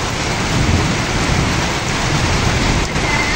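Heavy rain pouring down during a rainy day, a dense continuous roar of drops close by with deep low rumbling of thunder underneath, steady and loud with no voices.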